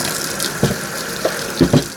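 Hot water runs from a kitchen tap in a steady wash, broken by a few louder splashes and gushes, close up with no talk.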